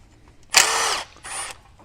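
A power tool spins a 10mm socket to remove a nut on the turbocharger bracket of a Chevy Cruze, two short close whirring bursts separated by a brief pause.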